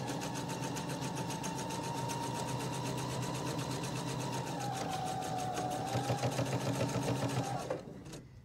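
A sewing machine stitches across the fabric of a reading pillow with a fast, steady mechanical whir that runs close and continuous for about eight seconds, quickening slightly near the end before it stops abruptly.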